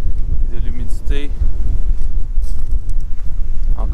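Strong, cold, humid morning wind in Newfoundland buffets the microphone in a constant low roar, with a few faint tonal sounds briefly rising above it.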